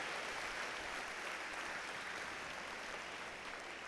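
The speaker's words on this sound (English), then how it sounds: "let's give her one more round of applause" An audience at a robotics competition's opening ceremony gives a steady round of applause. The clapping is faint and distant, a continuous wash that holds fairly evenly throughout.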